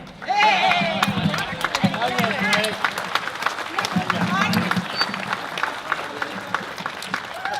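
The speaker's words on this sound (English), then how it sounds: "Round of applause for him." Rally crowd outside NSW Parliament House in Sydney protesting anti-bikie laws breaks into applause and cheering, loud and dense at first, then thinning to scattered claps under chatter and shouts.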